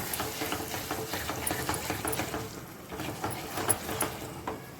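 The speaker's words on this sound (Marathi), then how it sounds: "आता आपण झाकण काढून परत एकदा परतून घेऊया" Soybean masala being sautéed and stirred in an uncovered pan, with a steady close sizzle and repeated scraping strokes of a spoon running throughout, no talking.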